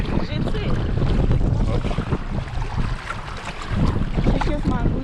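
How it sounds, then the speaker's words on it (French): Strong, gusty wind buffets the microphone near open water, surging and easing in uneven waves of roaring noise. "Le vent, en ce moment, il est très rafaleux."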